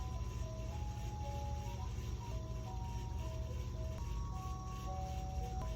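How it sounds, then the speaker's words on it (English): An ice cream truck idles outside, its looping tinkly chime melody playing steadily over a constant low engine rumble, moderately distant and unbroken, with no talk. "Why is that ice cream truck still here?"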